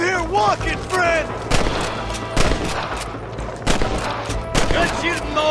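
Rapid volleys of gunfire in the Western shootout game Red Dead Redemption, sharp close cracks and bursts repeating across the clip, with voices calling out between shots over a steady background.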